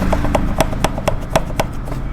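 Regular clicking from a loose front brake disc on a Pulsar 180 motorcycle, sharp taps repeating roughly every quarter second, close and fairly loud over faint background noise.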